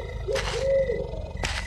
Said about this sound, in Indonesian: suara anjing, suara harimau,